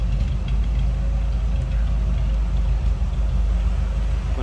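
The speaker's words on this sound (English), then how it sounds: "just a nice little rumble coming out of that 265 Power Pack V8" A 1955 Chevrolet Bel Air's 265 Power Pack V8 idles close by, a deep, steady rumble and low throaty exhaust drone holding constant throughout.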